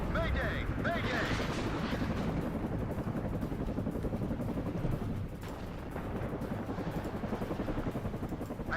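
Apache attack helicopters in the video game WARNO give a continuous loud rotor roar mixed with gunfire and explosions, with in-game voices over the din.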